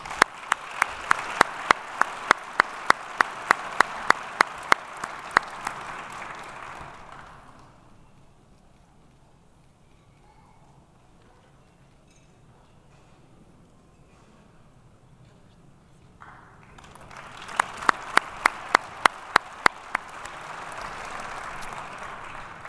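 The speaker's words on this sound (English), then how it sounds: "Let's give these members another round of applause." Audience applause at a police department awards ceremony, a broad wash of clapping with sharp rhythmic claps, fading to near quiet for several seconds before a second round of applause swells back up and tapers off.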